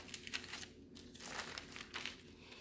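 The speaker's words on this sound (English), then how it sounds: "So I'm pulling this way and I'm peeling back that way." Gluten-free tortilla dough, flattened and then peeled back slowly by hand, giving soft sticky crinkling and tearing sounds in quick uneven bursts. Close and quiet.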